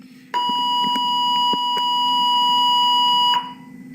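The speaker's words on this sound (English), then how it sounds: "That was the 7:40 a.m. bell." A school bell sounds at 7:40 a.m. in a classroom, a loud, steady electronic tone lasting about three seconds with a sharp start and stop, with no speech over it.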